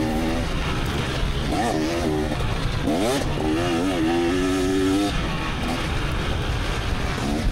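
A 300cc two-stroke dirt bike at motocross practice, its engine revving in rising and falling bursts as it works around the track, loud and fairly close over constant background noise.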